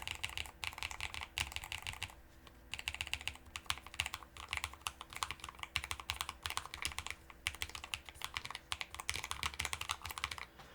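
Steady, fast typing on a Chosfox X Masro Geonix Rev. 2.5 mechanical keyboard with linear switches, smooth keystrokes clacking continuously with only a brief pause, close and fairly loud.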